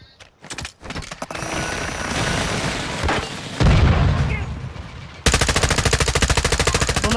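Gunfire in Call of Duty Warzone 2 on Al Mazrah, with scattered loud shots and booms building to a sustained rapid machine-gun burst at the end, close and dominant, with voices talking over parts of it.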